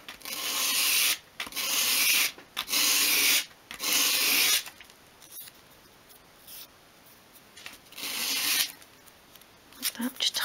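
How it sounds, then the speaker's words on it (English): Sandpaper sweeps in short bursts across the edge of a small wooden piece for a 1/12 scale miniature bedside cabinet, cutting a 45-degree bevel. The scratchy strokes come close and fairly quiet, with pauses in between. "take your sandpaper and just hold that again at a 45 degree angle and sweep it towards you"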